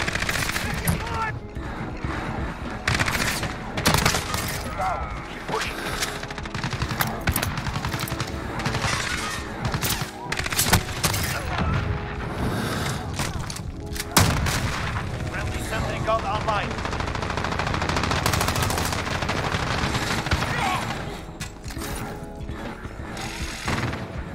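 Gunfire in the video game Modern Warfare, rapid bursts of shots and louder cracks repeating densely over a long stretch, with a person talking intermittently among them.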